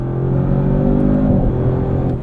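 A 2024 Audi RS7 engine roars loudly at high revs in third gear near 5,000 RPM, a steady strained drone that rises slightly as it pulls, with no voices.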